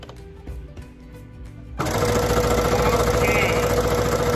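A sewing machine stitching a ribbon trim tutu starts up partway through and runs at a steady fast whir, loud and close, after a quieter stretch of handling noises.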